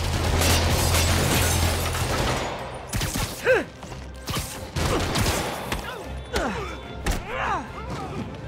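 Rapid gunfire and heavy thuds from a Spider-Man video game fight scene, loud and continuous at first, then scattered bursts and impacts, with brief voices mixed in.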